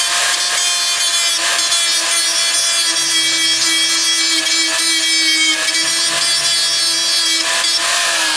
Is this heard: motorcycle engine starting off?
no